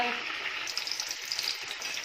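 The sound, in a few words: chicken stir-frying in oil in a pan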